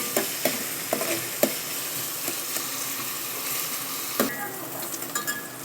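Chopped onion fries in a pan, turning pinkish and soft, with a steady close sizzle broken by sharp clicks and scrapes of a utensil stirring against the metal; nobody speaks.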